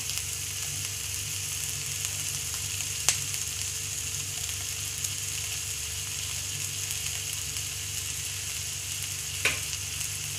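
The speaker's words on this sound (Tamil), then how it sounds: "நம்ம இஞ்சி பூண்டு பேஸ்ட்டு போட்டுக்கலாம்." Steady, even sizzling of ginger garlic paste frying in a hot pan, continuous throughout with two brief sharp clicks, no talking.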